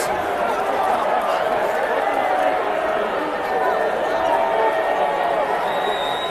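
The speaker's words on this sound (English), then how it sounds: "you can hear the reaction from the crowd" Basketball crowd in a high school gym, McDowell against Prep, reacting late in the fourth quarter to a charge call: a steady, dense wash of loud chatter and murmuring voices filling the room.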